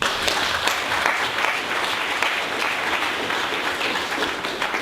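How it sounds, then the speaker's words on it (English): A tech meetup audience claps steadily for a presenter, even, moderately loud applause filling the room without pause and no voices on top. "So please give him a round of applause."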